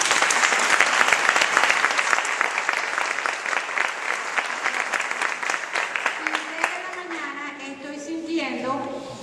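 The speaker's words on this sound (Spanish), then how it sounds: "Un aplauso para Jesús." A church congregation gives sustained applause for Jesus, a dense roomful of clapping that gradually thins out as a voice begins speaking over the tail end.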